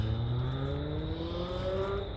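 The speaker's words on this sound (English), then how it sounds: "I can't wait till that car is out of here." A car revs and drives off near homes at night, its engine note rising steadily in pitch as it pulls away, moderately distant and fairly quiet with no voices.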